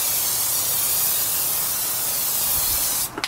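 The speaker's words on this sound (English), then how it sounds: "Spray it there, just a bit." Plasti Dip spray paint sprayed onto the grille of an Infiniti G35 sedan, a loud continuous aerosol hiss close up for about three seconds before it cuts off.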